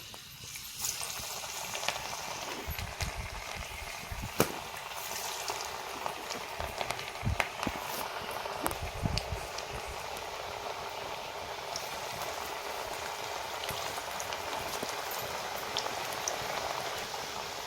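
Onion bhaji fritters deep-fry in a kadai of hot oil. The oil gives a continuous faint bubbling crackle with scattered sharper pops throughout.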